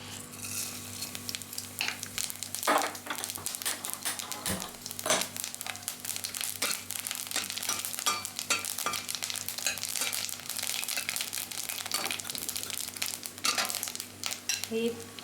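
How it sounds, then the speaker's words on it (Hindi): Cumin seeds sizzle and crackle in hot oil in a kadhai where red chillies have already turned red, for an Odia-style potato bharta. The sizzle runs steadily and fairly close throughout, with small stirring clinks. "अभी मैं इसमें जीरा डालूँगी"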